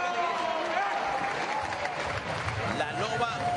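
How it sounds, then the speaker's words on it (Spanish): Applause for the winner of a women's boxing main event rolls under a commentator's voice, a steady crowd clapping that stays loud and continuous throughout. "Y ahí está el aplauso para la protagonista de la noche,"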